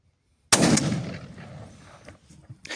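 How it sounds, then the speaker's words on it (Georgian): A Benelli 828U over-and-under shotgun fires a single loud, close shot with a sharp onset and a rolling decay that lingers for over a second, followed by faint outdoor noise. "ესეც ჩვენი მეხუთე გასროლა"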